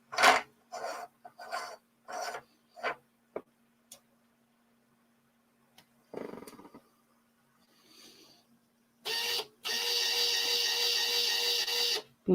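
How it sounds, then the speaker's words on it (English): Monport GI60 MOPA fiber laser, its motor moving in short bursts of mechanical whirring, then a sustained high-pitched whine and buzz near the end, close with a constant faint hum underneath. "Ooh, that motor has a pleasing high-pitched sound."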